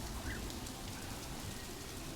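Soft, steady rain hiss falls in a Planet Zoo zoo scene, a faint, even wash of droplets with no voices.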